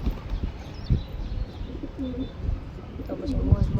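A pair of pigeons coo softly in low, throaty bursts amid light bird chirps and background noise, while someone speaks nearby.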